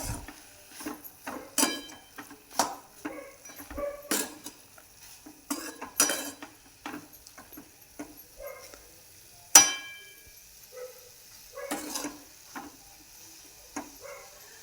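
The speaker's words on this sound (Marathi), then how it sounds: "परत ही अशी हलवून घ्यायची मिक्स करायची छान" Shepu (dill) and moong bhaji stirred in a pan with a little oil: a spatula scrapes and clinks against the metal in repeated irregular strokes, close and fairly clear, with no talking.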